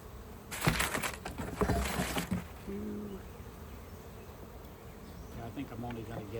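Honey bees buzz around an open hive during an inspection, a close, steady drone with brief louder swells early on and a few faint knocks.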